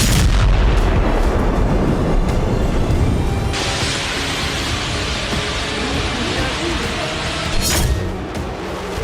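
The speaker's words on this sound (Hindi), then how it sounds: "स्टॉर्म शैडो का पहला अटैक" Heavy explosions from a Storm Shadow missile attack in the Russia–Ukraine war roar as dense, continuous rumbling blasts, loud and close, with a sharp burst near the end before the noise settles.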